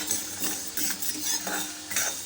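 Curry leaves and asafoetida stirred in a hot pan with the stove just switched off, giving a steady mix of soft sizzling and scraping with light metal clinks from the spoon, fairly close.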